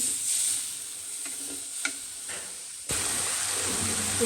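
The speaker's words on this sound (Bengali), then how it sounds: "একটু কষায় নেব মশলাটা কিন্তু ভালোভাবে কষানো হয়ে গেছে দেখতে পাচ্ছি" Spice masala sizzles in a pan while being stirred during cooking, a steady close hiss with light scraping strokes, which grows louder and brighter partway through.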